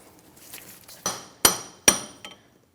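Several sharp metallic hammer strikes knocking a stuck front CV axle loose on a Chrysler 300, three or four evenly spaced ringing blows in a quiet garage, with no talking.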